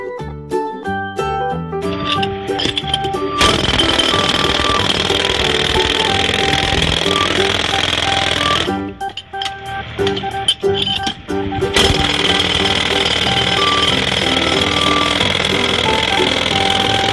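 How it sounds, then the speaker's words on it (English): A toy jackhammer from a children's tool workbench buzzes and rattles loudly in long bursts, stopping briefly midway before starting up again, with electronic tones layered over the rattling. "Jackhammer."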